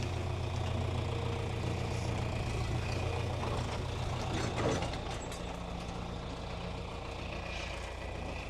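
A tractor pulling a plow through a field, its engine droning steadily and close with a low rumbling hum and some rattling mechanical noise, fairly constant throughout with no talk.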